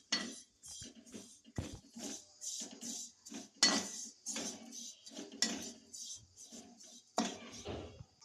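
Grated coconut stirred in a wok for mavinkayi gojju, a raw-mango dish: close, rhythmic scraping strokes of a spatula against the metal pan, repeated steadily with no talking.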